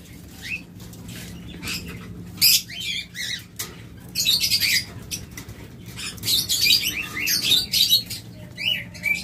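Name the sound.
pet birds for sale, opaline pair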